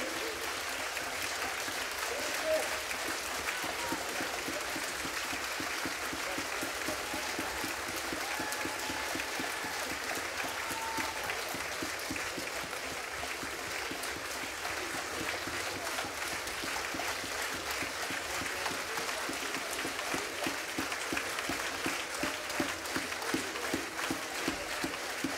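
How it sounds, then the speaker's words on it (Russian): A concert audience applauds an accordion soloist and a folk-instrument orchestra at a regional philharmonic hall. The clapping is sustained, dense and even, with a faint crowd murmur beneath it throughout. "Сколько восторженных аплодисментов."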